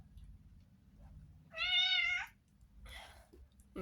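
A single clear meow from a pet cat, fairly close and loud for about a second, standing out over a low steady background hum, followed by a fainter shorter vocal sound.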